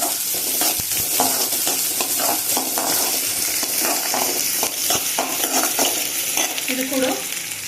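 Onions and crushed garlic frying in a pan for keerai kolambu, a loud steady sizzle with the scrape of stirring running throughout, close and continuous for several seconds.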